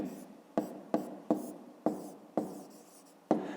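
Pen strokes on paper during a fifth-grade maths exercise: six sharp scratchy strokes, each starting crisply and fading out, spaced irregularly and heard close up with no talking.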